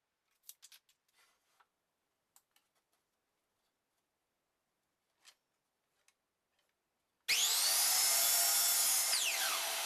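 A miter saw on a shop-built miter saw station makes a test cut: after scattered faint clicks and taps, the motor spins up loud and steady, the blade whining through the wood, then slowing as the cut finishes.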